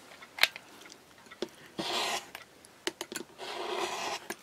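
Quilt fabric being trimmed while making a microwave protector, faint close snips and crisp rustles scattered in short bursts, quiet with no talk.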